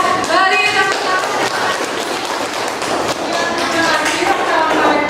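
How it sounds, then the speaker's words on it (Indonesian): A classroom of children gives a round of applause, a dense spatter of claps running throughout with voices calling out over it. "beri tepuk tangan"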